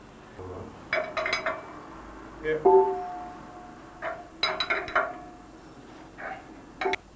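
Metal clinks and knocks while a church bell's clapper is taken out and refitted with a washer, scattered sharp metallic taps in short clusters with a brief ringing tone, close by.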